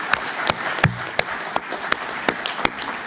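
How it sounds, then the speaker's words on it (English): An audience at a MobileMonday Toronto leadership panel gives scattered, moderate applause, with sharp individual claps standing out over a steady patter. "So round of applause for them as well."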